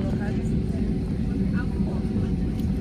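A small private propeller airplane passes near an airport where an American A321 takes off, its steady low engine drone filling the scene along with faint background talk.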